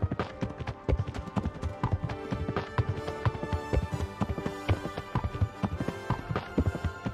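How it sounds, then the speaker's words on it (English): Loud, rapid hoofbeats of several horses galloping close by in the video game Kingdom Come: Deliverance, a continuous drumming clatter with scattered sharper knocks throughout. "God, they're freaking loud horses."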